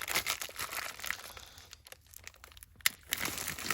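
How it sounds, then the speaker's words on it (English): Plastic packaging crinkling and being torn open up close, with continuous crackly rustling and a brief quieter pause before the crinkling resumes. "These packages are such a pain to open."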